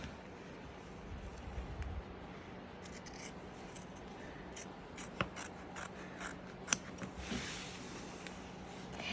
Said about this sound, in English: We are going to applique trim that circle on the outside, as close to the zigzag as you can get it.